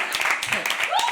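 Applause from the crowd at a live poetry open mic at The Habitat, continuous clapping with a voice speaking over it and a brief rising whoop near the end.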